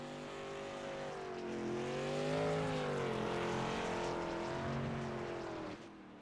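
A race car drifting on dirt in the iRacing video game, its engine holding a steady, loud harmonic drone that rises and swells in pitch midway before easing off, heard alone with no voices.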